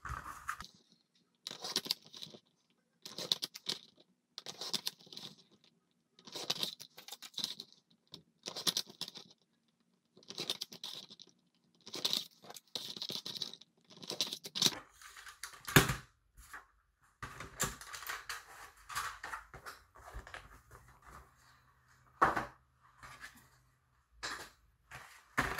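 Paper strips cut for a scrapbooking paper bow, close crisp snips and rustles coming in regular bursts with short pauses, then denser handling and crinkling of paper.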